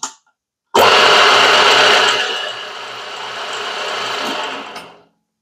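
Milling machine spindle spins a boring head slowly, a steady loud motor whir that starts abruptly, eases slightly in level, then winds down and stops after about four seconds.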